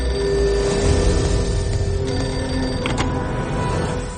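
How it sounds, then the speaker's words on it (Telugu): A public telephone on platform number 1 of Nampalli railway station rings steadily, a continuous electronic bell tone over a loud, dense station hum, with no voices heard. "నాంపల్లి రైల్వే స్టేషన్ సరిగ్గా morning between 11:30 to 11:40 platform number 1 మీద ఉన్న పబ్లిక్ టెలిఫోన్ రింగ్"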